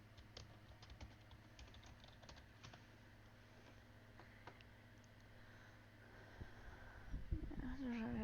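Rapid clicks of typing on a computer keyboard patter steadily and quietly for several seconds. A voice breaks in near the end.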